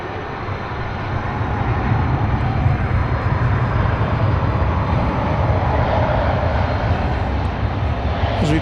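An American Airlines airliner, flight 785, roars loud and close at DFW Airport at night, a dense continuous engine rumble with broadband rush that holds steady throughout.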